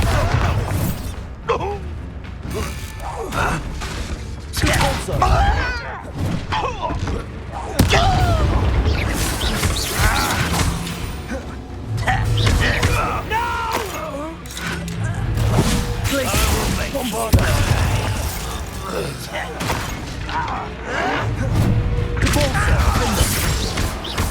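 A Bombarda explosion spell cast in the video game Hogwarts Legacy, with heavy booms and crashes landing amid continuous loud combat effects, mechanical clatter and a character's voice.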